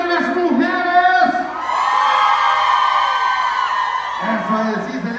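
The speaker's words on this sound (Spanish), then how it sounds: "¡El grito de las mujeres!" A concert crowd of women at a cumbia show lets out a loud, sustained shout and cheer, high-pitched whoops swelling over several seconds amid voices and background music.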